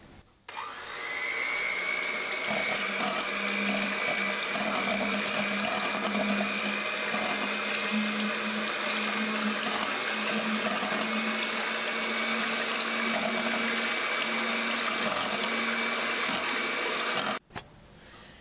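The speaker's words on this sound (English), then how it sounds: "Now, time to start up that mixer." Electric kitchen mixer running on low speed, a steady whirring motor hum with a constant whine that starts abruptly and runs for a long stretch before cutting off near the end, no talk.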